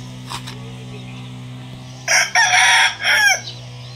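A gamefowl stag rooster at a game farm crows loudly and close by in one full cock-a-doodle-doo burst, with a steady electrical hum underneath and a faint bird call just before.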